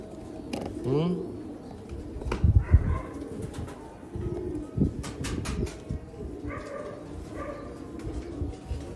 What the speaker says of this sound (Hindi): ये है सियालकोटी पुराने बटेरे कबूतर